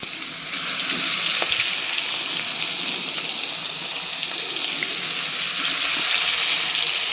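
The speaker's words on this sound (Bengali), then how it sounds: "পমফ্রেট মাছটা ভেজে নেওয়া হচ্ছে" Pomfret fish coated in salt and turmeric frying in a pan gives off a loud, continuous hissing sizzle that stays steady throughout, heard close up with no speech.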